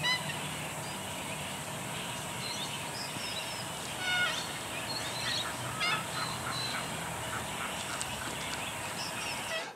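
Geese honking outdoors, a loose chorus of repeated nasal calls at middle distance over a steady background hiss, continuing for about ten seconds with no talk.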